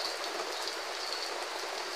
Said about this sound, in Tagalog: Non-stop ang ulan dito sa amin.